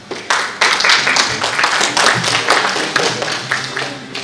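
Audience applause fills an awards ceremony hall at the Middle East Leadership Awards 2024, a dense, steady patter of many hands clapping throughout with no break.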